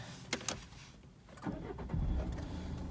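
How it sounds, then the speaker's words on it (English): Peugeot 207 1.4 HDi diesel hatchback starting up, a few faint clicks inside the cabin followed by the starter cranking and the engine catching into a low, steady idle rumble. "Just going to start the car up for you now."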